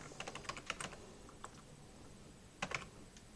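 Quiet bursts of computer keyboard typing, a quick cluster of key clicks, a single tap, then a short second flurry, heard close and alone.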